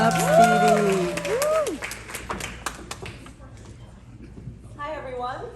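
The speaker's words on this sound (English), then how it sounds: "Give them a round of applause." An audience at a beauty event breaks into loud applause and cheering that fades over a few seconds, with voices and chatter carrying on after.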